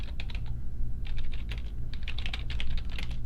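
Keys clatter on a computer keyboard as a search name is typed, a close run of quick, uneven keystrokes in short bursts with a brief pause partway through.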